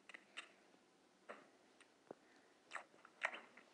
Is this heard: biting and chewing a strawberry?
yes